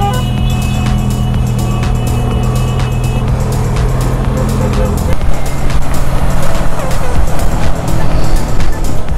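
A brand-new Lamborghini sports car with an aftermarket exhaust passes on a road, its engine growl swelling against the steady drone and wind of a motorcycle ride.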